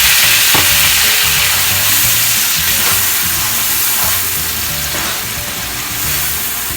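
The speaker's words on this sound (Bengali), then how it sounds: "তো এখানে পেঁয়াজটা একটু ভাজা হয়ে গিয়েছে" Onion paste frying in a pan for a Thai-fusion golda shrimp curry, a loud, continuous close sizzle and hiss, with a few brief stirring scrapes and no voices.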